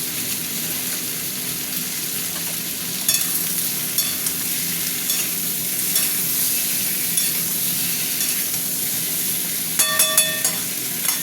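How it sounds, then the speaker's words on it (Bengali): Pumpkin and potato fry in oil with tomato, a steady close sizzle with scraping stir strokes and clinks throughout, no one speaking. "সবজির মধ্যে তোমার কুমড়ো আর আলু ভাজা হতে থাক।"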